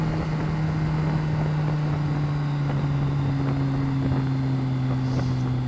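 A Kawasaki GTR1400 Concours motorcycle engine drones steadily on a narrow, winding country road, a strong low hum with rushing wind noise over it and only a slight shift in pitch.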